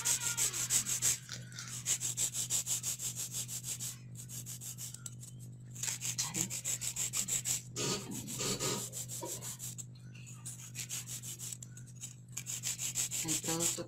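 A disposable file is rubbed against long nail tips to sharpen them, giving faint, rhythmic scraping strokes broken by short pauses.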